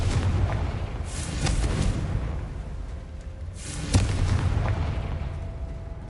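A booming blast from the Confringo spell in the video game Hogwarts Legacy, heavy low rumbling bursts that rise and fade in waves, with a sharper crack near the middle, loud and close.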